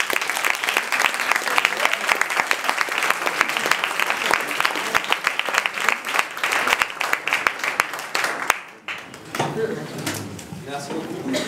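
Audience applause at a French law-students' pleading competition evening, dense sustained clapping for about eight seconds that cuts off sharply, followed by quieter room noise and a voice speaking.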